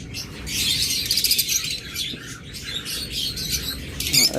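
A pair of violet opaline budgerigars twitter in a cage, with a dense stream of close chirps and short squawks rising and falling among other caged birds.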